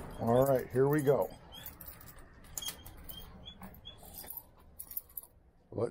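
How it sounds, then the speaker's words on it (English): A small dog gives two quick, sharp barks close by, followed by quieter rustling, footsteps and faint clinks in a room. "Let's see if the crazy little dog will behave."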